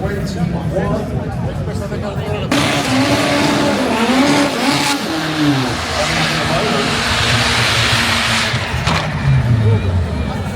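A 1400 bhp Toyota A90 Supra races a quarter mile, its engine roaring loudly and shifting pitch through gear changes as it passes, with a commentator talking over it.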